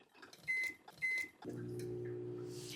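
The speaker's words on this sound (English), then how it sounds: "the baby gets hot chocolate, which is going to go in the microwave" A microwave oven heating a cup of hot chocolate, powered from a portable power station, starts after two quick button beeps, then settles into a steady, close, humming drone.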